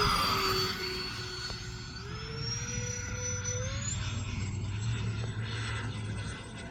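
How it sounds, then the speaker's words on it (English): An E-flite electric ducted fan on a Freewing A-10 model jet runs at one-third throttle, a steady close whine with a rising pitch and a constant airy rush, heard alone. "So here's 1/3 throttle, which is probably more than I'd use in flying with the camera."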